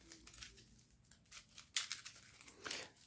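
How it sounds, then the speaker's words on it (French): Cards from the 51st State board game are shuffled close by in quiet, crisp bursts of riffling and papery flicking, with sharper snaps near the middle and end and no one talking. "Alors tout d'abord on mélange toutes les cartes."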